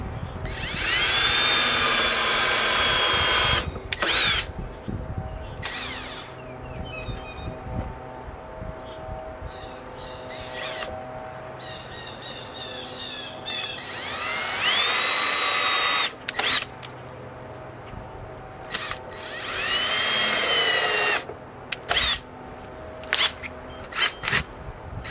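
A power drill drives smaller screws into the wood of a piano being turned into a bench, loud close whirring bursts that rise in pitch, stop, and start again several times.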